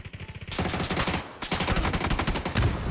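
Gunfire in the video game PUBG, a dense rapid burst of automatic shots followed by more sustained firing after a brief pause, loud and close, without talk.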